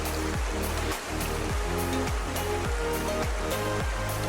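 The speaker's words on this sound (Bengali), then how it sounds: "ঝর্ণা থেকে পানি যেটা পড়ছে সেটা এখানে বয়ে বয়ে আসছে, তারই আওয়াজ পাওয়া যাচ্ছে।" Water from a waterfall rushes down a stream in hilly country, a steady, dense broadband roar that fills the whole stretch without pause and with no voices.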